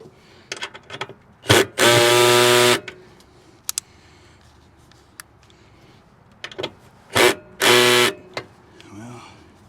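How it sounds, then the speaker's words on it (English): Power screwdriver on its max setting driving screws while a hidden spare tire carrier is fitted to an RV, two long whirring bursts with short taps and handling noises between them, close up. "I had to use max on the screwdriver right here"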